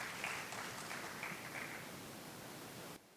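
Applause from an audience at a student parliament event in Bihar, welcoming a student speaker. It is a steady, moderately distant wash of clapping that runs evenly for about three seconds and then cuts off abruptly.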